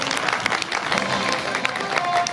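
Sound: audience applause

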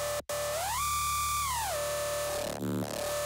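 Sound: synth bass mixing dubstep bass and FM bass

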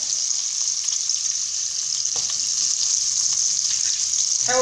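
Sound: chicken meat frying in butter

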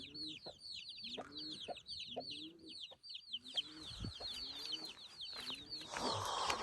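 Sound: chicks cheeping

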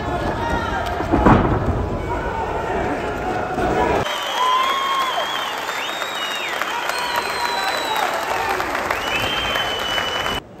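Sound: stormy applause of wrestling spectators in a sports arena

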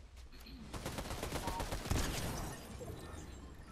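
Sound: gunfire in the video game Fortnite

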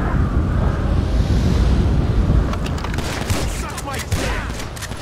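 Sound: shotgun gunfire in video game GTA V

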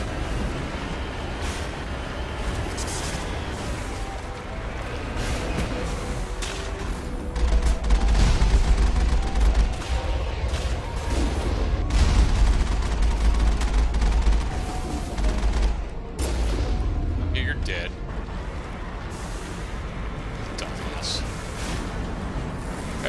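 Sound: gunfire from video game Mass Effect

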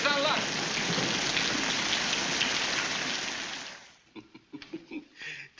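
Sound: heavy rain

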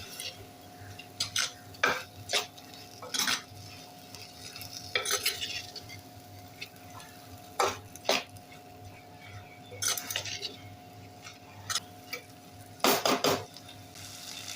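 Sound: sautéing washed long-grain rice in a pan

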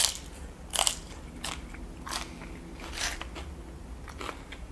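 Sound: crunching tortilla chips

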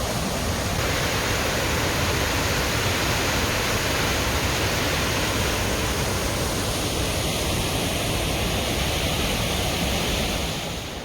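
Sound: waterfall in the Swiss Alps

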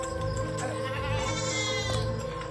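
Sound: goat bleating

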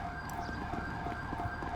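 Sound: fire truck siren approaching in video game GTA V

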